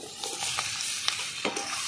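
Chopped tomato dropped into a pan of frying crab curry with dried and slit green chillies, giving a soft steady sizzle with a few light stirring scrapes and clinks, close and fairly quiet, no voices.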